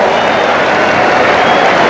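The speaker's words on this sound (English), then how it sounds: "Appreciative crowd with a round of applause for number 4" A basketball arena crowd at a 1989 Celtics versus Mavericks game breaks into a steady, dense round of applause, filling the whole stretch with a continuous wash of clapping and cheering.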